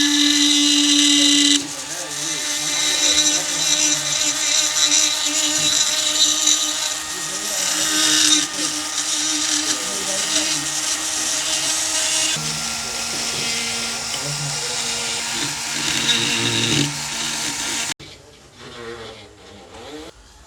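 Electric power tools polishing stone statues in a statue-making workshop, a loud continuous high-pitched grinding whine that shifts pitch as the tool loads and eases, cutting out near the end to quieter room sound.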